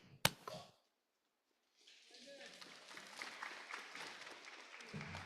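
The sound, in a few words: applause at a club meeting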